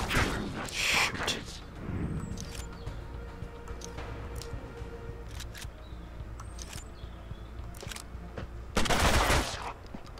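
Gunfire in the Mutant Year Zero tactical game, a few sharp shots with a short burst near the end over a low ambient game bed, with no talk over the shots.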